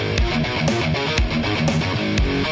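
An electric guitar riff played through a tight distortion setting in guitar riff creator software, chugging, palm-muted chords with sharp accented hits roughly every half second, loud and dense, no voices.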